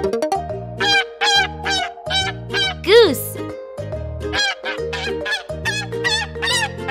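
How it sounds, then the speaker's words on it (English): Geese honk repeatedly in quick bursts, close and loud over a looping background tune, with one stronger, longer honk near the middle. "Goose."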